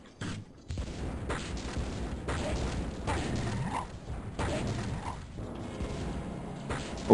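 Grenades explode in S.C.A.R.A.B., a 1998 Electronic Arts Windows game, as several dull booms follow one another over a continuous mechanical rumble.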